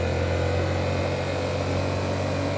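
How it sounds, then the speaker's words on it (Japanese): A Yamaha MT-07 motorcycle engine runs in a tunnel, a steady, loud, muffled drone with a low hum and no clear rise in revs as the throttle opens, and nobody speaking. "今ちょっとスロットル開けたんで音が聞こえたんじゃないかと思いますが"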